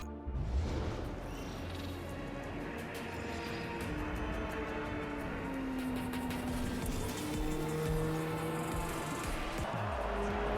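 Honda Civic Type R racing in Project Cars 3, a steady engine drone with rising and falling pitch as it accelerates and shifts, loud and continuous throughout, with no talk over it.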